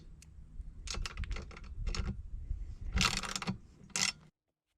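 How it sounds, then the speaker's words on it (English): Nuts being tightened down on the U-bolt of a Kobalt portable mixer, heard as bursts of close, ratcheting metallic clicks and scraping with short pauses between them, ending abruptly. "Trying to tighten these nuts down so that they're going down evenly"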